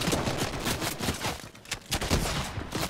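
Rapid bursts of sniper rifle and other gunfire in a Fortnite Battle Royale match, loud and dense, with repeated sharp cracks over the whole stretch.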